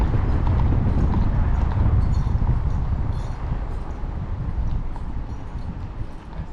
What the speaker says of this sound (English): just two horses with their feet chained up to their front feet are kind of like chained together